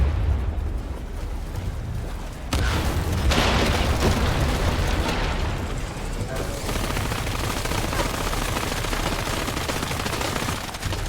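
Sustained gunfire and explosions in the video game Shadow of the Tomb Raider, dense rattling bursts and booms running continuously and loudly throughout without a break.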